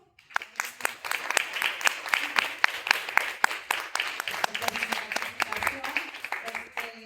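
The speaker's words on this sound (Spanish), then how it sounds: "Me gustaría dar un aplauso." Audience applause at a talk on digital society, a steady patter of many hands clapping for about seven seconds, moderately close with dense overlapping claps and a brief start.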